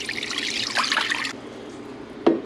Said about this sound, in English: I have 2 quarts of water that I'm gonna pour in here